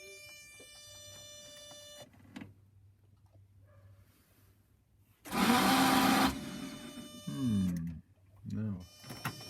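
The starter of a 1982 VW Vanagon Westfalia whirs in one loud, strained burst of about a second as it tries to turn the engine, with quiet pauses and people talking before and after.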